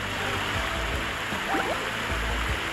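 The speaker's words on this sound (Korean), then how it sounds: "물소리도 들립니다" Water flowing below a hidden snowy outdoor hot spring in Hokkaido, a soft continuous rushing murmur with faint distant human sounds and a brief higher tone mixed in.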